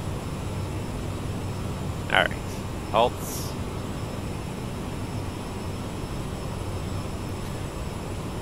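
Airliner engines held at full takeoff thrust in Microsoft Flight Simulator, a steady broadband jet roar running evenly throughout, with someone briefly speaking over it.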